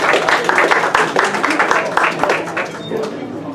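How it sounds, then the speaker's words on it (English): An audience at a high school reunion applauds a speaker with brisk, dense clapping that stays fairly loud for a few seconds before thinning out, with voices talking underneath. "Give him a hand"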